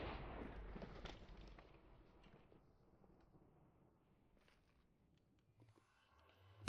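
In Minecraft, a fire charge lights a nether portal with a low, rumbling whoosh that starts loud and fades away over a few seconds, followed by near-silence and a faint ambient hum rising at the end.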